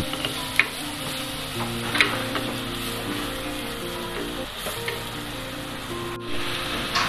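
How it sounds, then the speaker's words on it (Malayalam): Crushed garlic and ginger sizzle steadily in a hot pan for a Kerala-style snakehead fish curry, with occasional soft stirring clicks over a constant frying hiss. "ക്രഷ് ചെയ്ത വെളുത്തുള്ളിയും ഇഞ്ചിയും 2 ടേബിൾ സ്പൂൺ ഇടുക."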